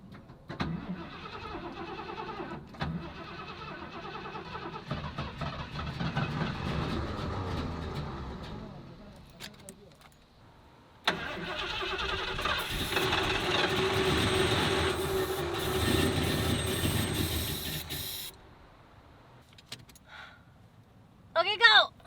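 A 1986 Ford F250 with a Super Cobra Jet engine cranks over and sputters as it tries to start, loud and close, in two long bursts separated by a short pause, with voices talking over it.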